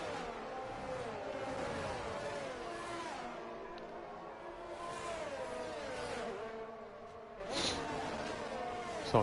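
Race cars in a Miami round of a racing video game league, engines droning and shifting pitch continuously under light background noise, with a brief louder surge near the end.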